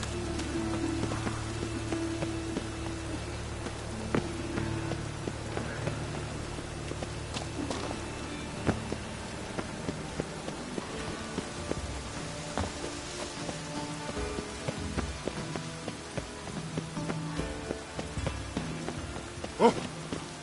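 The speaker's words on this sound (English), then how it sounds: "It just rains and rains." Rain in The Witcher 3 falls steadily in a soft, even patter, with occasional hoof clops and scattered taps over a low ambient hum.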